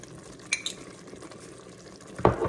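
Seasoning and chorizo mix being stirred into ground turkey chili with beans and sweet potato, heard as a short bout of spoon scraping and pot clatter, with a louder knock near the end over a low sizzle.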